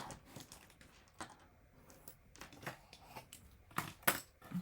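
Scissors snip paper at the corners of a scrapbook photo album, a quiet series of short, irregular cuts close by, with small rustles between them.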